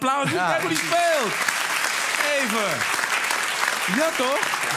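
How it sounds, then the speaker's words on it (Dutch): A late-night TV studio audience applauds a guitarist with a loud, sustained roar of clapping. Several people talk over it. "Ja, geef hem een applaus."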